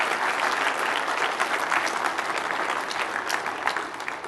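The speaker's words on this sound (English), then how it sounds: "a round of applause on her way up" An audience at a security conference talk on red teaming claps in a full, sustained round of applause as the presenter walks up, even and dense from start to finish.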